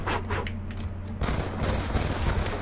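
Dense gunfire from Black Ops 2 multiplayer rattles through the whole stretch, rapid overlapping automatic bursts that swell louder in the second half, with no talk.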